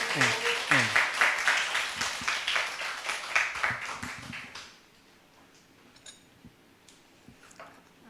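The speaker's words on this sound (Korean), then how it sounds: "우리 황기아 상담사, 황기아 박사님, 교수님을 위해서 뜨거운 박수로 환영해 주시기 바랍니다" A church audience breaks into steady, loud applause welcoming a guest lecturer, the clapping dense for several seconds before stopping abruptly, followed by a quiet room with faint scattered taps.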